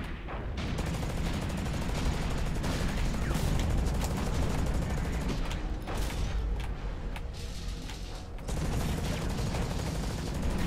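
Assault mech weapon firing in the video game Hawken, a dense, sustained barrage of rapid shots and mechanical clatter, loud and continuous with a brief drop near the end.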